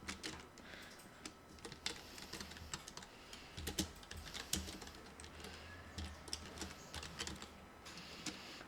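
Continuous fast typing on a computer keyboard while entering text in Photoshop, with crisp, closely spaced key clicks and a few louder strokes, no voices.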